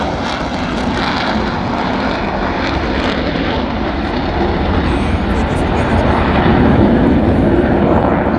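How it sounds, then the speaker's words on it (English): An Airbus A400M military transport aircraft takes off at an air show, its propeller engines making a loud, sustained roar that swells slightly toward the end, with a voice faintly underneath. "There's the A400M into the air"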